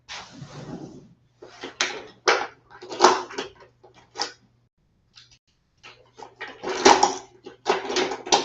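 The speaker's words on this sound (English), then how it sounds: "So I just need to get my teaspoons and stuff." Teaspoons and utensils being rummaged through in a kitchen drawer, a series of metallic clinks and clattering bursts close up, separated by short pauses, over a faint low hum.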